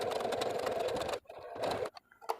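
A sewing machine stitches fabric in a fast, even mechanical whir, stopping abruptly about halfway through and then running in a couple of short bursts with brief pauses between.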